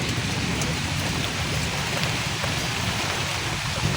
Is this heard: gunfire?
no